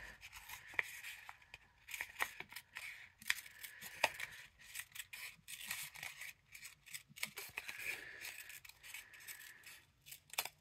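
Scissors snip around the edge of a paper cupcake liner in a quick, irregular run of close, crisp cuts with faint rustling between snips, no talking.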